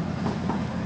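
A long freight train rolls past on the rail line, a close, continuous rumble and clatter of wheels with no voices.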